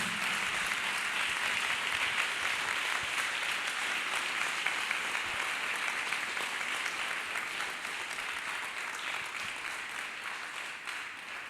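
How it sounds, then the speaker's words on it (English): A church congregation claps hands in worship, a dense, steady wash of many hands applauding continuously, fairly distant and soft, with no voices standing out. "Clap hands for Master Jesus."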